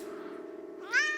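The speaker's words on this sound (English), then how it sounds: "And then that's my cat." A single cat meow, short and clear, rising in pitch toward the end, heard close with nothing else around it.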